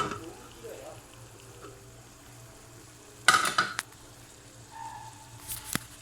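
Ground tomato goes into a hot pan of sizzling oil for an Ethiopian-style kofta sauce, giving a sudden loud splashing hiss, then quieter frying and stirring, while someone talks.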